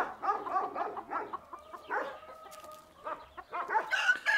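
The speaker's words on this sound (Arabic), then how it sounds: "هون عندي انا دجاجات" Chickens from a village flock of about 200 birds in Barka cluck busily and repeatedly at close range, with overlapping calls and no one talking.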